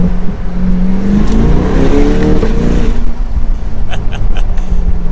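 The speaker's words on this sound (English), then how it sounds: "I love how you can hear the exhaust more." A 2022 Chevrolet Corvette Convertible C8 R Edition growls and revs loudly while driving, the exhaust note rising and falling, with a few faint clicks near the end.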